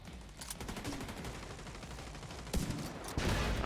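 Bursts of rifle gunfire from The Division 2, rapid automatic volleys with loud cracking shots growing louder near the end, set amid a firefight with grenadiers.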